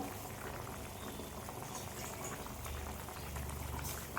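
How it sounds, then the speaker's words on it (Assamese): Water being added to a pot of catfish curry with bitter gourd, giving a steady, broad bubbling and liquid hiss that runs throughout without any talk. "অলপ পানীও দিব লাগিব।"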